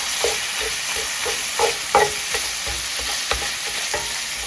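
Meat browns in a pan with black pepper and kosher salt for Cajun dirty rice, giving a constant bright sizzle with intermittent scraping stir strokes, close and loud.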